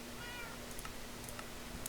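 A cat meows faintly in the Minecraft video game, a brief, thin, pitched call over soft background hiss and a few light clicks.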